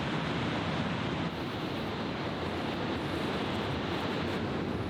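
Ocean waves surge steadily around the Múlafossur waterfall in the Faroe Islands, a continuous broadband roar of surf and falling water with wind buffeting, no pauses or voices.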